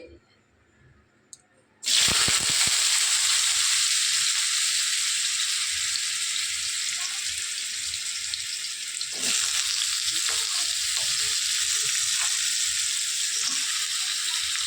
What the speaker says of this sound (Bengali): আলুগুলো এবার ভেজে নেব তেল গরম হয়ে গেছে